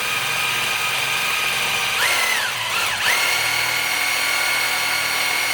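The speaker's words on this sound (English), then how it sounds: "So we're going to go ahead and begin that with the step bit." A power drill with a step bit bores a hole through metal for a vehicle mount, a loud sustained whine that dips and recovers twice as the bit bites deeper, close and alone.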